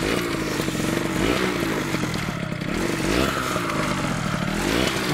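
A Yamaha motorcycle engine revs up and down in repeated surges, a harsh buzzing roar close by that rises and falls several times without any speech.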